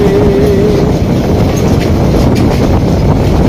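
A train rumbles past close by onto the Jamuna bridge with a steady, heavy roar and rattling wheels that fill the whole stretch.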